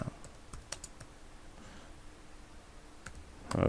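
Light typing on a computer keyboard during graphic design work, sparse close key clicks spread across a quiet stretch, ending in a louder burst of noise.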